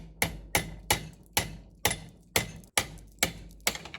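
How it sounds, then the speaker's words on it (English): Chisel driven by repeated hammer blows to cut out the seized outer ring of an outdrive bearing carrier in a boat lower unit; sharp metallic strikes land about every half second, close and loud, with no talk. "I will continue chiseling that outer ring of the carrier out"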